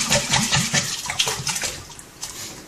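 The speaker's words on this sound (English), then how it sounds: "and give it a last little rinse" Water sloshing and splashing inside a glass beer bottle as it gets a final rinse while bottling homemade Black IPA, a close, steady watery rush with irregular swishes and no talking.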